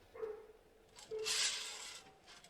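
Neighbours' dogs barking at night in the video game Spirit Hunter: NG, heard as a few muffled, distant barks with a louder burst of noisy sound in the middle and no talk.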